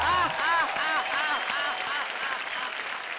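At a Hindi comedy and poetry show with Shailesh Lodha, a large audience breaks into loud, sustained applause, a dense wash of clapping that holds steady throughout while a voice speaks briefly over its opening moments.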